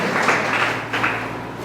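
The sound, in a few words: congregation applauding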